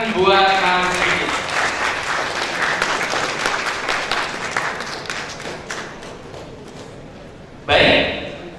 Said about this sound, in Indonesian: Sekali lagi tepuk tangan buat Mas Diki.